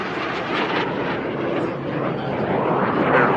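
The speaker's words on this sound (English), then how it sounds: "McCormick and Athena, the L-29 Albatross, out in front." An L-29 Albatross jet racing at an air race, a steady loud roaring rush of engine and wind noise that swells slightly toward the end.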